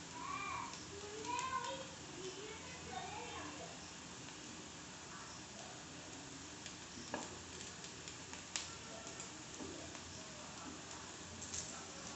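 Aloo tikki patties fry in very hot oil with a faint, continuous sizzle and occasional crackles, partly under quiet talking in a home kitchen.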